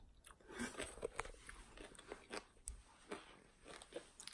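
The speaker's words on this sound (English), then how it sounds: "I'm munching on some ceviche that I made the other day" Homemade ceviche being munched: close, faint crunchy bites and wet chewing in an irregular rhythm, several soft crunches spread over a few seconds in a quiet room.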